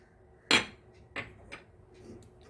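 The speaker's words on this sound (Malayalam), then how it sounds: "ഇത്രയും ചേർത്ത് ഒന്നും കൂടെ നല്ലവണ്ണം ഇളക്കാം" A spoon clinks sharply against a bowl while stirring a spice mixture of ginger powder, cumin and cardamom for Pesaha appam, one loud strike followed by a few lighter taps, close and alone.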